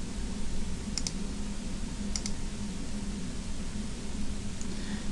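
A computer mouse clicks in design-analysis software. Two crisp, close double-clicks about a second apart sit over a steady background hiss, with a faint single click near the end.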